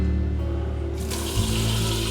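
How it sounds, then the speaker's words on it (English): Tap water runs steadily into a kettle outdoors while a lasagna is cooked on a grill, a continuous splashing flow that grows brighter partway through as the stream strengthens. "we got to get a kettle of water"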